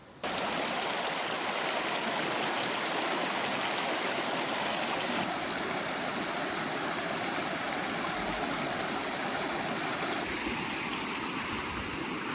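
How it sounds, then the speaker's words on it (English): A Vermont stream on the Long Trail rushes steadily nearby, a dense, continuous wash of running water with no voices over it. "I'm just about to ford this stream, or river, or brook."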